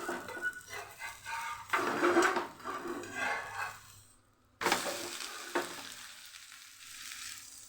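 Vegetable semolina pudla, a savory pancake, sizzling and frying in a pan with soft crackling and occasional scraping or stirring, quiet and close, fading briefly before resuming.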